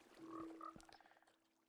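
Frogs in a video game croak in a short, close sequence: a sustained tone, then a rapid run of clicking pulses that fades out.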